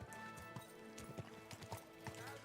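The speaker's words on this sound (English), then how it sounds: "Easy, good horse." Horse hooves clip-clopping in Kingdom Come: Deliverance 2, a steady series of distinct hoofbeats at a walking rhythm, fairly near and quiet, with game sounds around them.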